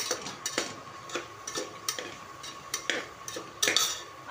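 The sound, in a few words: coconut powder being roasted and stirred in a pot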